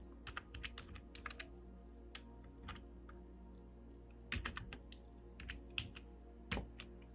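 Irregular bursts of keystrokes on a computer keyboard, clicking in quick runs with short pauses, close by and fairly quiet over a low steady hum.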